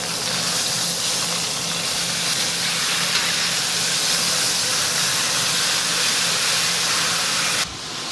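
NY strip steaks sizzle loudly and continuously in a hot pan right after being flipped, a dense, close hiss with a low hum underneath that drops off sharply at the very end.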